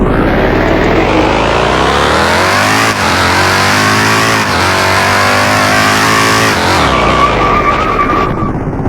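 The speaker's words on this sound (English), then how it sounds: "Yeah, that was like a star drift." A car in the Car Driving Ultimate video game drifts with its engine revving hard, loud and continuous, the pitch climbing and falling through gear shifts and tyre squeal toward the end, with no talking.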